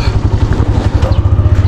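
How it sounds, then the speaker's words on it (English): Motorbike engine running close by, a loud, throaty low pulsing beat that throbs in a rapid, regular rhythm throughout the short stretch, with no talk. "So guys, the motorbike is just over here."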